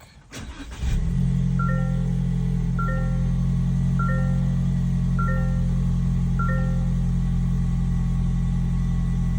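A 2024 Toyota Tacoma truck engine cranks briefly and catches, then settles into a steady, loud, close idle rumble while short electronic chimes beep repeatedly over it.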